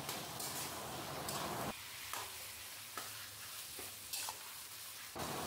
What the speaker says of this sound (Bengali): ভালো করে নেড়ে চেড়ে কচু শাকটা রান্না করব